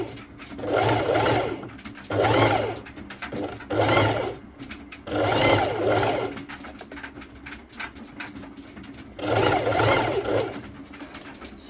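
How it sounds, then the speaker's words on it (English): A sewing machine stitches back and forth on elastic in quick whirring bursts, several separate runs of mechanical buzzing with short pauses between them, close and clear. "I'm going to do a few stitches back and forth, and I don't pull the elastic, I just simply guide it"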